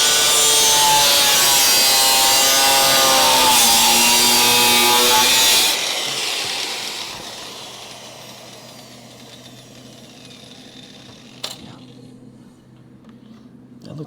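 An angle grinder works on the body of a Crew Cab Charger under restoration, a loud, steady high whine with a shifting pitch that cuts off partway through, leaving quieter workshop noise and a faint clack.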